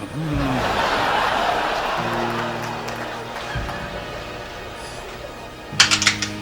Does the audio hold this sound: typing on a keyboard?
yes